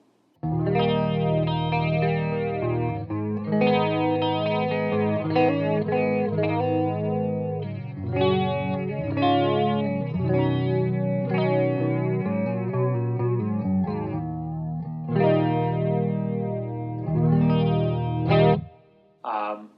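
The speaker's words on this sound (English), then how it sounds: "here is the classic chorus in the all knobs at noon" Electric guitar played through a Source Audio One Series Gemini Chorus pedal set to classic chorus with all knobs at noon, a shimmering, wavering, lush tone on picked notes and chords, steady and close, with no talking.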